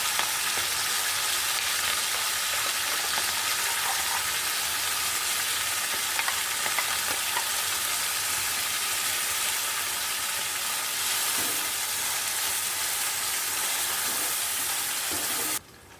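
Afghan egg curry spice paste frying in a pan gives a steady, loud, close sizzle and crackle that runs unbroken for the whole stretch, then cuts off abruptly at the very end.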